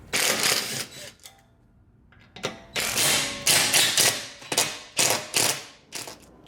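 A ratchet wrench on a Torx 30 bit clicks in repeated bursts while loosening the bolts of the plate under a Lamborghini Gallardo drive shaft, with rapid close ratcheting and short pauses between runs.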